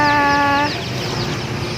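Dense, high-pitched cheeping from many colored chicks for sale at a market, rapid overlapping peeps, loud and close, with a steady tone fading into the chatter.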